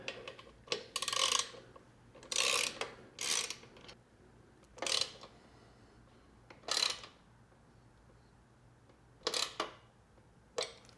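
A ratchet wrench tightens a bolt on a headlight grille fitted to a Triumph Scrambler 1200 XE motorcycle, giving about eight short, crisp clicking bursts separated by quiet pauses, close by.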